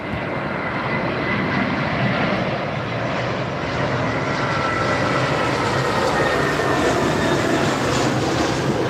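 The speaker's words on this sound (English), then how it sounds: "Right, Finnair. Airbus A380." A Finnair Airbus A380 arriving on runway 27R at London Heathrow, its jet roar steady, loud and broadband throughout with no voices.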